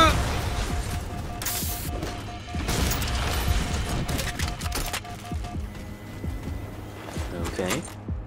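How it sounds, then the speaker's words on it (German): Grenades detonating in Halo 4 gameplay, a string of sharp crashing blasts and debris bursts over a busy mix of mechanical game noise, with someone speaking throughout. "Aber sie spammt mich zu mit Granaten, was sie gerade macht."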